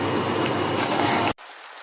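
Steady rain pours down in a dense, loud hiss, then cuts off abruptly to near quiet just before the end.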